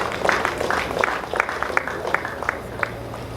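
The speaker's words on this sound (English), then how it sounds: "A round of applause for him." A hall audience at a quantity surveyors' investiture ceremony claps steadily, a spread of scattered hand claps with some sharper individual claps standing out, heard from a moderate distance for a few seconds.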